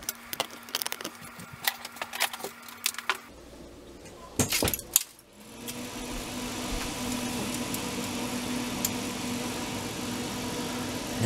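A replacement refrigerator evaporator fan motor switches on after a few clicks and handling knocks, settling into a steady, close, continuous hum and airflow whir.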